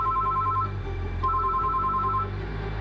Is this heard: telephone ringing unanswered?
yes